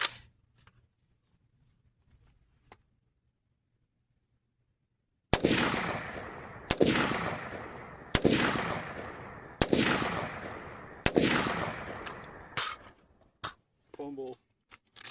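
A PSA PA-15 M16A4 clone rifle fires five spaced, loud single shots at an outdoor target range after a quiet pause, each crack ringing out briefly, followed by a couple of fainter handling clicks.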